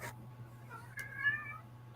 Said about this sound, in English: your kitties are awake.